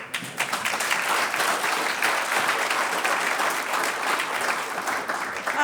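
Sustained clapping from a symposium audience welcoming a man named Dickie onto the stage, a thick, even wash of many hands that continues without letup through the whole stretch.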